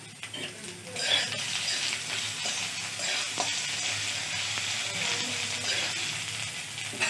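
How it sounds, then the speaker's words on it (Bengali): Banana flower curry frying in a pan with ginger and green chili paste and ground cumin, a steady loud close sizzle with occasional stirring scrapes and no talking. "এবার আর একটু ভালো করে আমি ভেজে নিচ্ছি"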